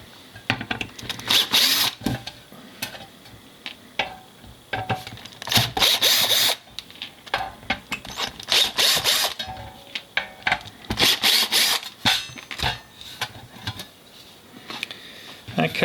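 Screwdriver work loosening small Loctite-secured screws on the metal covers of an S14a SR20DET ECU during a NIStune Type 4 board installation, heard as irregular scraping, ratcheting and rubbing bursts close up, with occasional talk.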